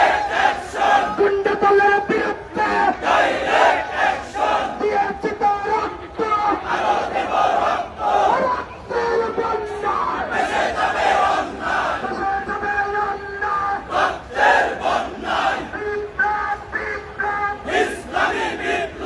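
A protest march crowd chants slogans loudly and continuously, many voices rising and falling together in rhythmic shouts that carry through the whole stretch.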